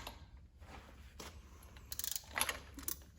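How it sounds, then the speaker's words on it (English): A ratchet socket wrench loosens a spark plug in short bursts of quick, close clicking between pauses, quiet overall, with no talking. "now we're going to unscrew the spark plug"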